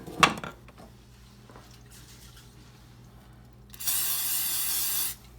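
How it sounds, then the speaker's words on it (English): Cooking spray hisses from a can onto a hand while Rice Krispie treats are made, one steady spray of about a second and a half after some quiet handling noises. "I'm gonna spray my hand with the cooking spray"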